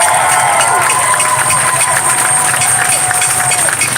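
A crowd at a public eviction protest in Philadelphia cheers and shouts steadily throughout, with a dense, loud roar of many voices and some whistling tones carrying over it.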